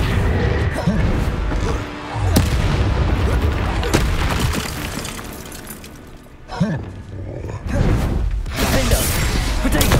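Confringo blasting spells burst in the Hogwarts Legacy video game, with loud repeated crashes, booms and whooshes piling into a dense, nearly continuous battle din. Brief dips come between the explosions.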